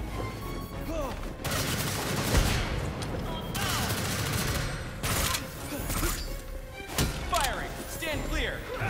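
Gunfire from the Gotham Knights video game, a dense, loud barrage of repeated shots and sharp bursts in irregular clusters, with occasional thuds and voices shouting over the noise.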